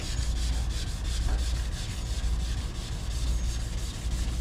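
Hand sanding with 400 grit sandpaper across the body of an 1986 Monte Carlo, a soft rhythmic back-and-forth scrubbing, fairly quiet and close, with no voices.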